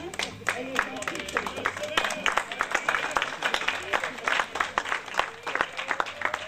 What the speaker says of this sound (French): On applaudit encore bien fort.